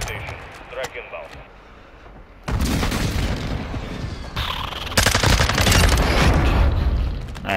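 A video-game close air support strike sets off heavy booming explosions mixed with rapid gunfire that erupt suddenly after a quieter stretch and keep rumbling loudly at close range, with voices over it.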